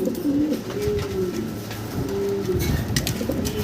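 Hungarian house pigeons cooing close by in a loft, soft repeated throaty coos overlapping one another against a steady background murmur.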